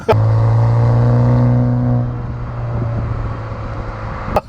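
BMW M135i xDrive exhaust revving loudly and steadily for about two seconds, its tone sliding as the revs drop back to a lower rumble, with a short sharp noise near the end.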